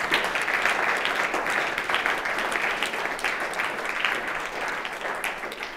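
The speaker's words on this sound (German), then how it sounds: "Vielleicht machen wir einfach mal einen Applaus für die alle so." Steady audience applause fills a conference hall at the close of a 2019 corporate management day, a dense, even wash of many hands clapping for almost six seconds with no voices.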